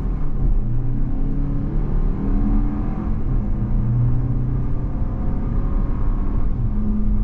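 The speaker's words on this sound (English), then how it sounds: "And you can hear the Turbo 4 is going to be louder." The turbo four-cylinder of a 2023 Toyota Highlander Platinum AWD accelerates from a stop, a steady, close cabin drone and rumble with a rising engine tone as it pulls through the 8-speed's gears.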